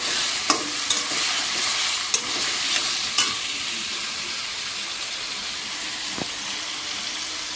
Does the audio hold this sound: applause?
no